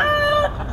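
A fighting rooster held at a roadside gamecock sale by the Grotto gives one short, loud, close cluck-like call, cut off abruptly.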